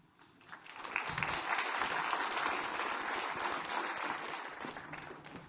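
Audience applause in a conference hall welcoming keynote speaker Regina Dugan at a developers conference, a dense, sustained wash of clapping that swells after half a second and holds steady to the end, with no talking over it.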